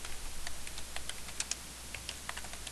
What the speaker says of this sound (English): If I could type, that would help.